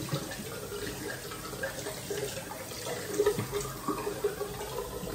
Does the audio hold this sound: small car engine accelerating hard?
no